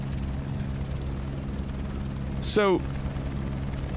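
A helicopter rotor from the Jurassic World Archipelago flight sim game drones steadily and loudly, with a brief spoken word partway through.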